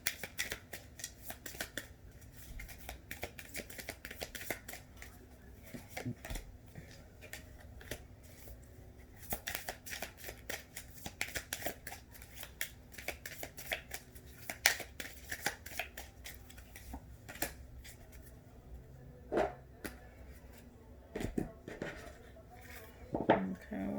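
Tarot and Romance Angel cards being shuffled by hand close up: a steady stream of soft riffling and sharp card snaps with occasional louder clicks, quiet and continuous throughout.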